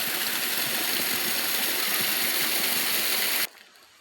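A waterfall-fed stream rushes steadily with a dense, broad hiss of flowing water, loud and unbroken, ending abruptly near the end when the sound cuts to near silence.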